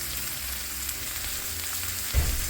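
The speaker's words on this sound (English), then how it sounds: "Burgers are cooking." Burgers frying on a griddle make a soft, steady sizzle, with a louder burst of crackling near the end.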